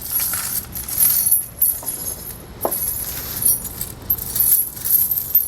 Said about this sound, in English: I'm going to drape the chains over the front of the tire